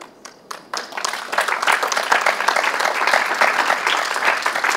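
A church congregation bursts into applause, starting with a few scattered claps and swelling into steady, full clapping that fills the room and holds for several seconds.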